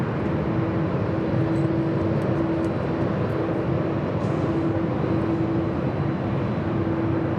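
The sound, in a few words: Airbus A330-300 airliner rolling down the runway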